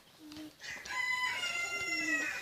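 A fighting-breed rooster crows nearby, a strained, raspy call rising and holding for about two seconds after a short cluck.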